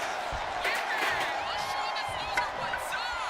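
Arena crowd noise swells steadily through a WWE 2K25 wrestling match, a dense continuous roar with scattered whoops, moderately loud and unbroken.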